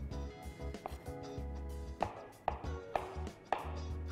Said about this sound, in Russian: Все режем как на салат оливье.